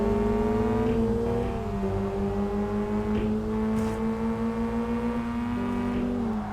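A Mazda RX-8 engine in the racing video game Kaido Racer holds a steady, sustained drone with a slight pitch dip and recovery, running continuously and fairly loud with no voices.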